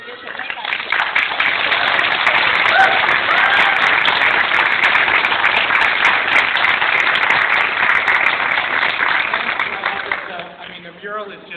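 Sustained audience applause for volunteers at a bridge mural speech, a dense crowd of clapping holding steady for about ten seconds, then tapering off as a voice begins.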